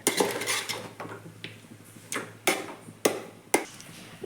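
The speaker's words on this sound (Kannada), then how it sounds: "ಇಲ್ಲೇ ಅನ್ನ ಹಾಕಿ ನಮ್ಮ ಅಕ್ಕ ಕಲ್ಸಕೊಂತಾಳ" Rice being mixed by hand in a metal vessel at home, heard as a series of sharp clinks and scrapes against the pot at an irregular pace, close by, with no voices.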